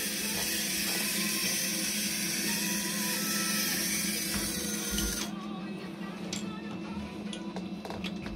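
A KMS K3 180oz winch on an Axial SCX10 III RC crawler pulls against a milling machine handle, giving a steady, close mechanical whine that cuts off after about five seconds, leaving faint ticking.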